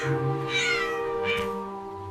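An animated orange cat stuck high in a big oak tree gives two plaintive meows close by, over steady tonal background music.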